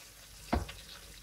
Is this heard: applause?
no